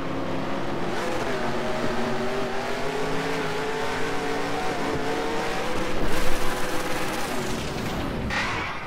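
A NASCAR race car engine in the NASCAR Racing 2003 video game at Watkins Glen roars at high revs, holding a loud steady drone with a brief surge mid-way after a missed shift.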